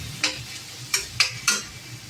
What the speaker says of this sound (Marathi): टोमॅटो असे परतून घ्यायचे चांगले. मोठाच गॅस ठेवायचा.